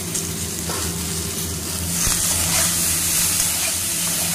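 Cut brinjal and runner beans hit a pan of oil and fry, a steady broadband sizzle with a sharper burst of hissing about halfway through, close and fairly loud with no voices.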